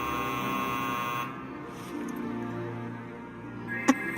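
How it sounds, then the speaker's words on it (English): A buzzer from the Mobius Final Fantasy game sounds as a steady electronic drone that drops off partway through, leaving a low hum with a sharp click near the end. "A buzzer, I think."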